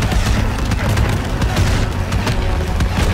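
Enemy gunfire in the World War II shooter Call of Duty WWII: dense rumbling bursts and booming shots, loud and continuous throughout, with a low blasting roar underneath.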